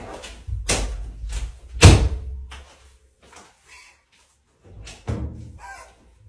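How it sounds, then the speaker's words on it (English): A door closes with a solid thud, followed by several softer knocks and bumps spread across a quiet room, with no talking. "You closed the door."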